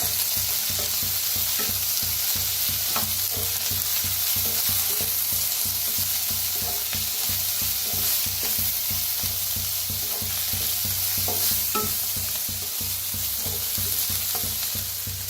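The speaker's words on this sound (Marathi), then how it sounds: "कांदा, कांद्याची पात, त्याच्यातच टाकूया हळद, तिखट, भाजून घेऊया।" Onion and spring onion fry in a pan with turmeric and chilli powder, a continuous even sizzle punctuated by soft regular stirring scrapes throughout, close and moderately loud, no speech.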